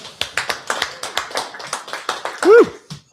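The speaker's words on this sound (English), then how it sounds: "That was such a lame audience clap." A live radio show audience gives a thin, sparse round of clapping, an even series of separate claps with a short voice sound near the end.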